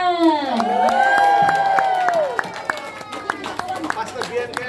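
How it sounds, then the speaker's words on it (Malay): At a Sunday school memory verse competition, an audience cheers and shouts with lively voices, then breaks into scattered, crisp clapping that continues in uneven bursts. "bagi tepukan dulu"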